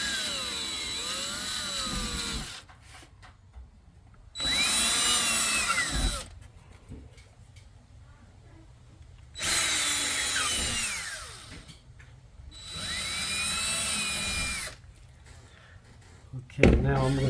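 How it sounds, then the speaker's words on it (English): A power drill bores holes into pegboard in three long whining bursts, each rising in pitch as it cuts, separated by quiet gaps and close to the listener. "since I already marked my 4 holes on the corner of the pegboard, I'm gonna drill it"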